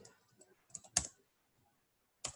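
Faint, sparse keystrokes on a computer keyboard while Python code is written, a few soft taps followed by two sharper isolated clicks, close and quiet with nobody talking.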